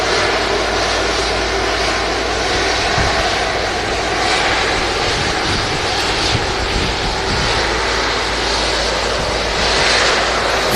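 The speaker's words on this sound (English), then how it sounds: "Very bassy aircraft, the A330. Just touching down is a EasyJet service" An easyJet Airbus A330 touching down at Manchester Airport, a loud, deep, bass-heavy engine roar that holds steady and continuous with no talking.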